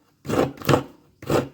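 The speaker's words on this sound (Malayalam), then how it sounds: "നമുക്ക് അതിക്ക് വേണ്ട തേങ്ങ ചിരകി എടുക്കാം" Fresh coconut is grated for a jackfruit chakka puzhukku in a home kitchen, with three separate rasping scrapes in an uneven rhythm, close and moderately loud.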